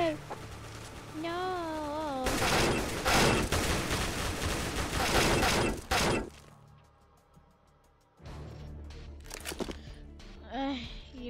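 Video game SMG fire, including the MP4, rattles out in dense rapid bursts alongside crashes and breaking sounds, loud and close, followed by a quieter stretch with scattered shots and game effects.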